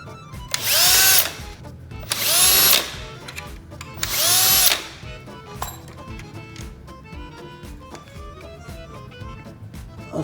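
A power drill backs screws out of a tower fan in three loud, close whirring bursts of about a second each, followed by quieter handling clicks and rattles.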